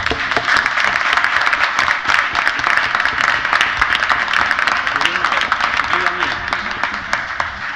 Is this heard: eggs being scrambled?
no